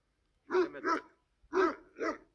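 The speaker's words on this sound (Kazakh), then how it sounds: "Осы азаматтың төбет әлемі. Екі төбеті бар екен." Two male dogs bark loudly and close by, giving four deep barks in two quick pairs separated by a brief pause.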